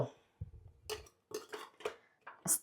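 Metal plates of ragi biscuit dough are set down inside a preheated cooking vessel, making several soft clinks and clatters in an irregular sequence, close and fairly quiet.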